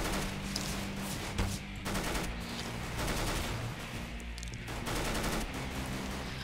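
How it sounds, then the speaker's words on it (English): Rapid automatic gunfire from Counter-Strike: Global Offensive, dense and continuous bursts of shots with brief gaps, loud throughout the whole stretch with no voice over it. "I'm just shooting at everybody now."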